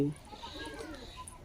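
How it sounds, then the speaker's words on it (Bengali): Domestic pigeons cooing softly while being fed, a low, faint murmur of coos close by, with a voice speaking over them. "সব বন্ধুরা দেখতে পাচ্ছ আমি এই সময় কবুতর খাওয়াচ্ছি।"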